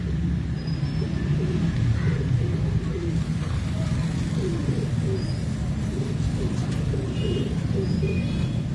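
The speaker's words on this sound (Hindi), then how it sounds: "है तो वही पाकिस्तानी इंडो पाक वाले कबूतर ना" Indo-Pak pigeons coo in low, repeated murmurs at close range, with a steady rumble of traffic beneath and occasional faint higher bird calls.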